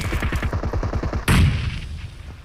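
Rapid automatic gunfire in the video game PUBG crackles in a quick, steady burst of close shots, then a single loud blast hits and rings out as it fades.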